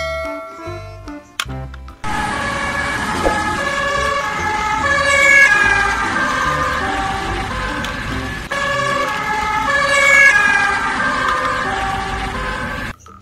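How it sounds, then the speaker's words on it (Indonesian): A toy ambulance siren wails in a repeating electronic up-and-down pattern, loud and close, after a few brief chiming tones at the start. "Mobil ambulan."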